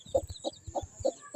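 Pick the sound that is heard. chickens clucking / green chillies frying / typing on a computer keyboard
chickens clucking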